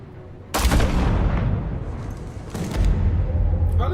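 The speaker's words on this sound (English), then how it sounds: "Oh, they shot this kid in the eye." A gunshot in a Batman video game cracks loudly and suddenly, followed by a second booming blast and rumbling game ambience over a few seconds.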